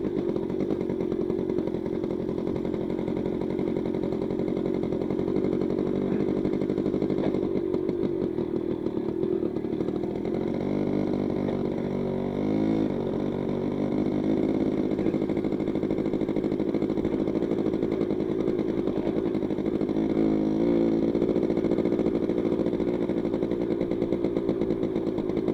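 A Yamaha motorcycle engine idling with a continuous, even rumble, close by and steady for the whole stretch, with a few slight revs in the middle.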